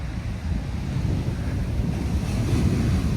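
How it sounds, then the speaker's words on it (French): Big Pacific Ocean waves break on a beach in a loud, continuous low roar and wash, mixed with gusty wind buffeting the microphone, with no talking. "C'est des sacrées vagues."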